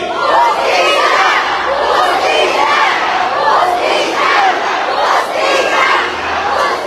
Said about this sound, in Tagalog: Ano ang sigaw natin para kay Pastor Kibuloy?